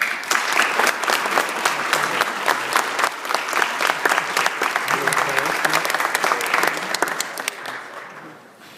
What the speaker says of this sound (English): ask everybody to give you a quick round of applause